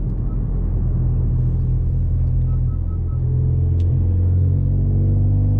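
A 10th-generation Honda Accord 1.5T with a 3-inch KTuned exhaust hums in economy mode, a steady, loud, low engine drone and exhaust rumble heard close up without any revving.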